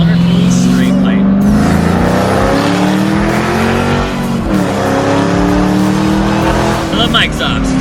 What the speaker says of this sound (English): We're gonna do a little second to third gear pull right now